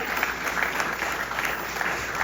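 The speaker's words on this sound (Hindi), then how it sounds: "महेश देसाई जी के लिए एक बार तालियां बजा दीजिए।" Steady audience applause at a Hindi Diwas 2025 gathering, a continuous dense patter of many hands clapping at even loudness for a couple of seconds.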